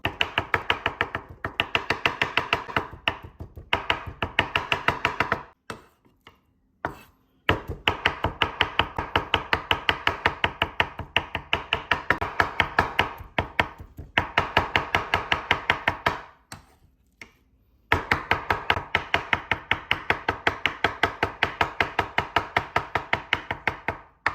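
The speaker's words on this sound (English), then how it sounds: "I'm going to just slice this down a bit. Got a cleaver here." Rapid, even thwacks of a cleaver chopping pork on a board, in long fast bursts separated by brief pauses, close and loud with no talking.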